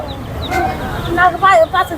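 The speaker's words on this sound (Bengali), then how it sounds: "মুরগির বাচ্চা" Colourful chicks at a poultry market cheep in high, rapid chirps, getting louder toward the end, over steady crowd chatter and a nearby voice.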